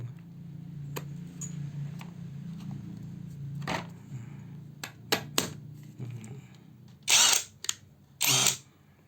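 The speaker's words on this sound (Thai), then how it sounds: "ผมจะเจาะไม้ ขันไม้ให้ชมนะครับ" A compact THAKITEC 230 Nm 16V cordless impact wrench drilling and driving into wood, heard as several short, loud bursts over a low background hum. The last two bursts are the strongest.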